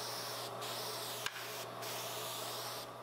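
Dewaxed shellac clear coat is sprayed onto a wooden filing cabinet, a steady close hiss running continuously with a few brief breaks and one sharp click.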